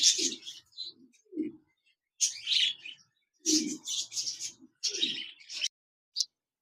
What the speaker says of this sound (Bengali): অ্যালবেনো রেড আই বাজরিগার পাখি রয়েছে রানিং পেয়ার